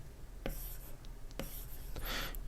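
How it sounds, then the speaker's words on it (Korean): Pen strokes on paper drawing a small circle symbol while writing out music theory notation, with several short scratchy strokes and one longer sweeping curve near the end, close and clear with no talking. "이렇게 오른쪽 위로 동그라미 하나를 그려줄 수 있어요"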